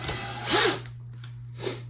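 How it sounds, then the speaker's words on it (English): A power drill whirs up to speed in a short burst, drilling a hole in a Proton Pack prop, eases off, then revs again briefly over a steady electrical hum. "So you're just gonna drill a hole right in the middle of that circle there."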